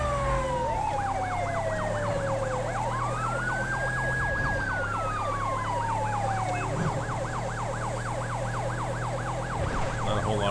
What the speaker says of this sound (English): Definitely gotta change that siren pack because I hate that last siren pack.